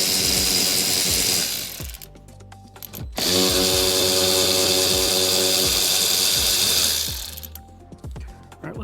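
A hand ratchet with a 15 mm socket works loose the seat bolts of a Toyota Tacoma, giving loud, close, rapid clicking runs: a short burst, a brief pause, then a long steady stretch of ratcheting.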